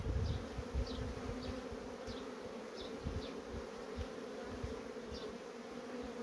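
Honeybees from a strong colony buzz steadily right at the hive entrance as pollen-laden foragers fly in, with a close, continuous drone and brief passing flybys of individual bees.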